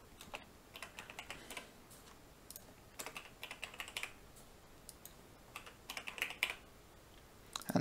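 A port number typed on a computer keyboard, scattered clicky keystrokes in small bursts and single taps, close and fairly quiet, with no talk.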